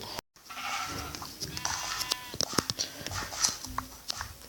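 Sheep bleating in Minecraft, several short wavering bleats that repeat at a moderate distance beneath game sounds and scattered clicks, with people talking faintly in the background.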